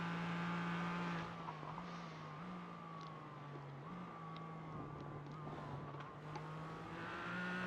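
Onboard engine note of a Porsche GT4 race car on track, a steady droning tone rising and falling with gear changes, held at a constant level throughout.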